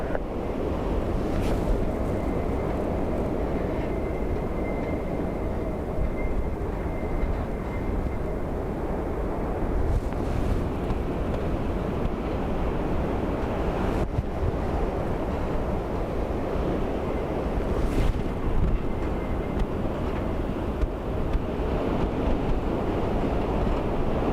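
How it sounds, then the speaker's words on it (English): Strong gusty wind roars at Dublin Airport during Storm Bram, a constant loud broadband rush buffeting the microphone, with faint distant aircraft engine noise underneath. "surface wind 230 degrees, 21 knots, maximum 37 knots"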